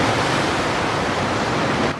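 Ocean waves at a beach, a loud, broad steady wash of surf noise that fills the whole clip before easing slightly at the very end, no voices.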